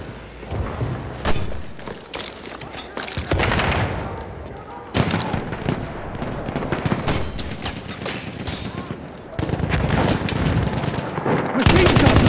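Heavy machine gun fire and rifle shots in a WWI first-person shooter battle on the Amiens map, dense bursts and blasts running nearly continuously and loud throughout, with shouted voices now and then in the mix.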